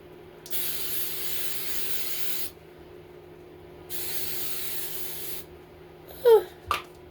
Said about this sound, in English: I'm going to spray her hair this morning.